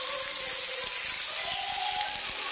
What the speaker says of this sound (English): I'll rinse each can with water to get all the paste out of the cans